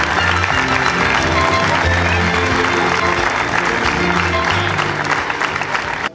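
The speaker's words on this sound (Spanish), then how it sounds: "Un aplauso para todos nuestros egresados." Sustained applause from the audience for the graduates at a secondary school graduation ceremony in Tostado, a steady, loud wash of clapping mixed with background murmur and tones.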